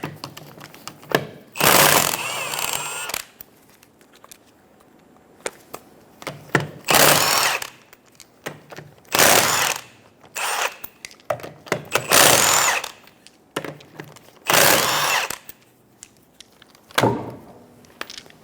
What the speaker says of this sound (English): 19mm socket, remove the 5 lug nuts.